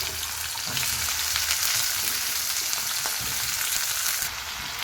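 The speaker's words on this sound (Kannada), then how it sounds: "ಆಲೂಗಡ್ಡೆ ಹಾಗೆಯೇ ಕ್ಯಾಪ್ಸಿಕಮ್ ಹಾಕ್ತೀನಿ ಫ್ರೆಂಡ್ಸ್." Cut potato and capsicum fry in a pan for a sabji, giving a steady, close sizzle with a few stirring scrapes and no voices.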